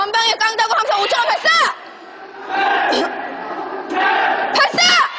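Army military academy cadets during basic training roar a loud collective battle shout, preceded and followed by sharp shouted responses, with a sustained group yell in the middle of the burst.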